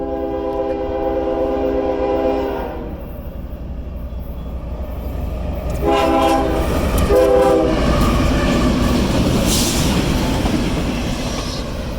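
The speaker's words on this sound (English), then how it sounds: "The train is right now passing Elliott Road." Union Pacific EC-4 inspection train passing a road crossing in Gilbert, Arizona, with loud horn blasts at the start and again midway, then a close rumbling roar and clatter as it goes by.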